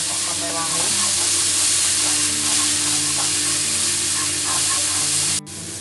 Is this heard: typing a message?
no